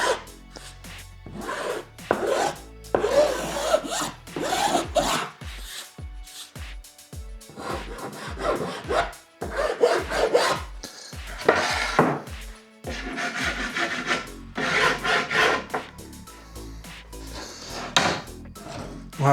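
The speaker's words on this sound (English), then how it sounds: "I'm just gonna take a rasp right quick." Metal rasp filing by hand, likely on a workpiece for a homemade hot foam cutter, giving repeated rough scraping strokes in bursts of several seconds each, close and fairly loud, with short pauses between passes.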